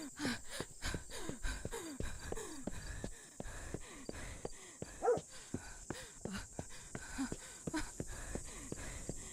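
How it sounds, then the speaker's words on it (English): A puppy in the horror game Remothered: Tormented Fathers gives a long run of quick, rhythmic whimpers and panting breaths, faint and fairly close, with no talk over it. "I hear a puppy."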